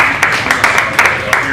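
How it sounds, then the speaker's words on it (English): An audience gives a round of applause during a talk, a fairly loud, brisk wash of clapping with a few sharper claps standing out, lasting just over a second and a half. "Can we give a round of applause?"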